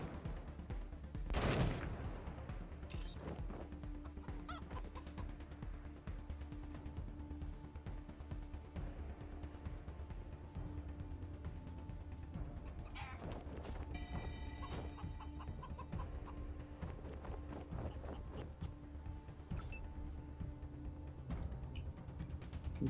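Chickens cluck amid bursts of gunfire in the video game Wasteland 3, with an early loud shot and steady game ambience, crackling shots and clucks continuing over a busy background.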